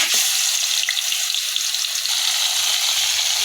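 Chicken pieces fry in hot oil in a kadai, giving a loud, continuous close-up sizzle and crackle with no talking.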